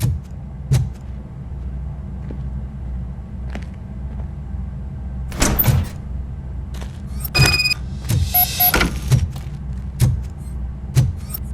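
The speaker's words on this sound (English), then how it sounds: "Now let me get that door open for you." A door opens in the video game Robocop Rogue City: mechanical clicks and a whirring slide near the middle, followed by a couple of short bright bursts, all over a low steady game rumble with regular thumping steps.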